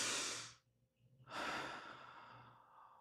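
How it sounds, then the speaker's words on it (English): A single deep breath is drawn in and slowly let out, close and soft, in a quiet room during a guided mental health relaxation exercise, with no talking. "Take a breath."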